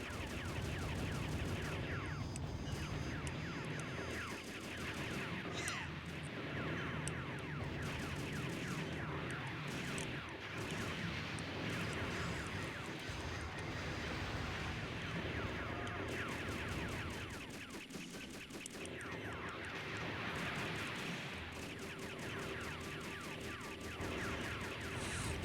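Rapid bursts of gunfire from the Robotech Battlecry video game crackle nonstop, with dense layered shots and explosions forming a loud, continuous barrage for the whole stretch.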